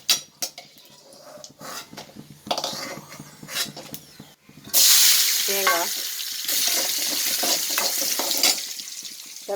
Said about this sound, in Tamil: எல்லாத்தையுமே வந்து எண்ணெயில் வதக்கிட்டு அதுக்கப்புறம் தான் வந்து குழம்புல சேர்க்க போகிறேன்